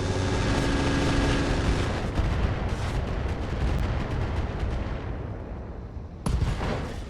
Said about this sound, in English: I think we'll just fire the MRMs and the Got rocket.